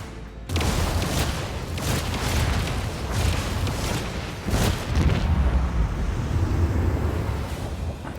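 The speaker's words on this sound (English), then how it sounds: "Unleash the storm of macro cannons!" A continuous roar of heavy booming blasts from video game macro cannons, rumbling and crackling without pause like a sustained artillery barrage, loud and dense throughout.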